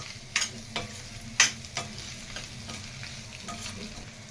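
Cauliflower and egg stir-fry in a hot pan, a soft continuous sizzle broken by a few sharp scrapes and clinks of the spoon against the pan.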